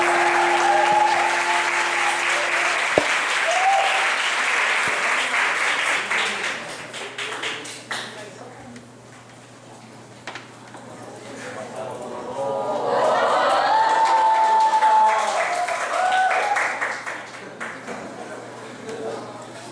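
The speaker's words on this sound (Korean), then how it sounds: "여러분 큰 박수로 환영하겠습니다" Applause from a church congregation at a Wednesday service, steady clapping filling the room, fading midway and then rising again, with voices talking over it.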